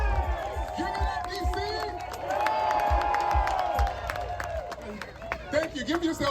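Crowd at an outdoor reparations rally in Washington, D.C. cheering and clapping steadily, a dense roar of voices with scattered sharp claps and shouts, talk mixed through it.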